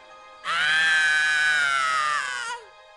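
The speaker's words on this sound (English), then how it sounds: "It sounded like a woman screaming for help." A woman's high, sustained scream for help in the hidden-object adventure game Hidden Mysteries: The Fateful Voyage of Titanic, a single loud cry of about two seconds that wavers slightly and then cuts off, heard alone without speech.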